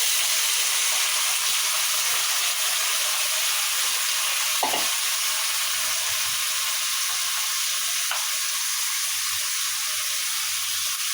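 Sliced bitter gourd sizzles steadily in hot oil in a pan, a loud continuous frying hiss with a few stirring knocks and scrapes partway through, close by and alone without talk.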